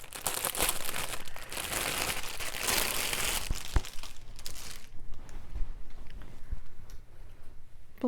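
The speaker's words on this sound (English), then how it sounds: "Sorry for all the crinkling" A wrapped cover for a Cricut Maker is handled close up, its plastic packaging crinkling loudly and continuously for several seconds before quieter rustles and a few taps.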